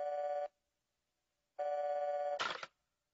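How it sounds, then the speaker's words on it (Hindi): A cartoon telephone rings in two bursts of electronic trilling with a silent gap between, the second burst ending in a brief noisy clatter. "मैं अभी इसके घर वालों को फोन करती हूँ।"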